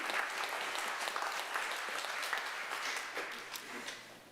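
Applause from a church congregation at a Sunday service, a steady wash of many hands clapping throughout, fairly distant and even, fading slightly toward the end.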